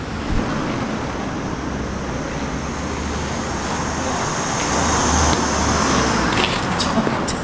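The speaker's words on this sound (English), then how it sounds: "wait for the lorries to go past before moving on" Lorries rumble past on a nearby road, a steady broadband roar of traffic that swells and fades, with a faint voice underneath.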